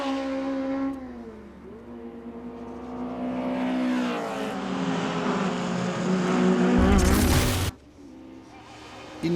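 Race cars of the 1300 category at the start of the second race of the 2012 Portuguese GT championship round in Braga, engines loud and close, revving and climbing in pitch as the field accelerates away together.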